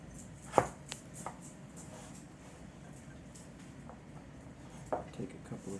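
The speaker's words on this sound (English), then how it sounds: "Now I'm going to do my bâtonnet on the side of the carrot." Knife chopping a carrot into thick bâtonnet sticks on a cutting board, a few sharp isolated knocks spaced apart over a low background hum, quiet and close.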